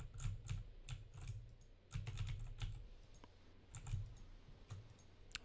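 Rapid clicks and key taps from a mouse and keyboard while playing the computer game Sky Factory, in quick irregular bursts, close and fairly soft, with no talking.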